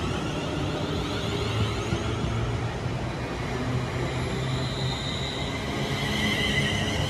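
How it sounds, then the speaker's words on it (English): A London Northwestern Rail class 350 electric multiple unit, 350107 leading, passes through Milton Keynes Central station, a steady broad rumble and hum of wheels and traction with a faint high whine, continuous and fairly loud throughout without any voices. "running about 6 minutes late is the 1649 London Northwestern Rail service from Crewe to London Euston"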